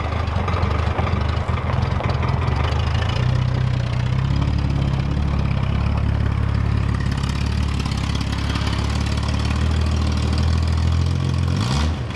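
A 1966 Ford Mustang engine runs on a new mechanical fuel pump, a loud, steady low rumble close by that holds for the whole stretch, rough and barely idling, with a brief flare of revving near the end.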